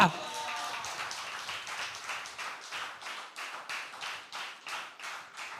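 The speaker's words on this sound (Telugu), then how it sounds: "చప్పట్లు కొట్టు" A church congregation claps in a steady rhythm, many hands striking together in regular repeated bursts at moderate loudness while a voice talks over them.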